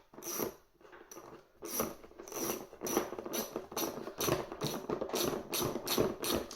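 Repeated ratcheting clicks in short rhythmic bursts as a part is tightened during an LG washing machine bearing replacement, close and fairly quiet.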